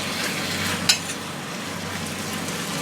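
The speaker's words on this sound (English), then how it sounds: "Fry for just a little bit" Apple pies with cinnamon-flavored apple filling frying in hot oil, a steady close hiss and sizzle running throughout with a brief stir or clink near the start.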